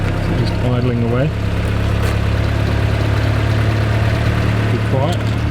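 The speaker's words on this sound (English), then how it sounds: "So just idling away." Turbocharged B18C4 engine in a Honda Civic EF with a new downpipe and screamer exhaust idles steadily close by, a constant low hum throughout, while a person speaks over it at a couple of points.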